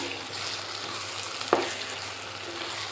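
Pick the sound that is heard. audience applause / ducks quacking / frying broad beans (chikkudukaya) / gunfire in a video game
frying broad beans (chikkudukaya)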